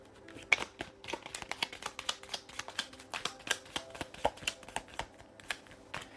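Tarot cards are shuffled by hand at close range, a rapid series of crisp riffling clicks and soft slaps that keeps going steadily throughout, quiet and with no talking.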